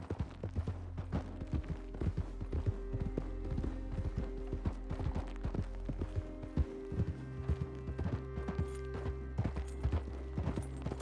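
Rhythmic horse hooves clop steadily at a trotting pace in the video game Red Dead Online, loud and close, over a low droning background.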